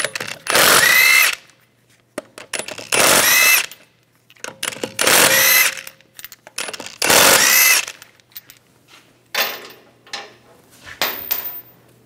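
A power tool with a 17 mm socket spins lug bolts off the wheel of a 2010–2014 Volkswagen GTI, in about six loud whirring bursts separated by short pauses, close by.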